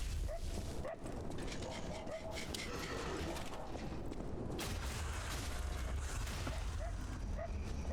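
Puppy whimpers and high yips from a video game, short repeated cries sitting inside a dense, steady wash of game noise and rumble, with a voice faintly present.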